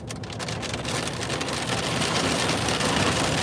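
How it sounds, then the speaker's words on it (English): Heavy rain pours down steadily in Florida, a dense, loud, continuous broadband hiss and patter on the ground and puddles that swells slightly louder over time, with no voices. "It's like heavy rain."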